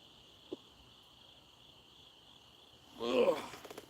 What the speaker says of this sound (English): listening to the crickets hiccuping.